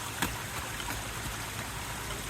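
A stream runs steadily beside a summer hiking trail on Bull Hill along the Washburn Trail, a soft, even flow of water with no talking.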